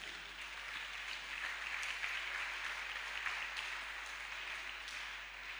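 A church congregation at a youth camp applauds to acclaim the Lord, a steady, even wash of many hands clapping heard from a distance with no voices standing out.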